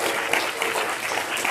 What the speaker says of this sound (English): can we just give Daryl a round of applause